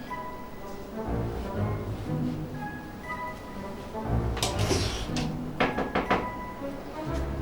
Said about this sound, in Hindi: बाहर जाओ और दरवाजा नॉक करके अंदर आओ।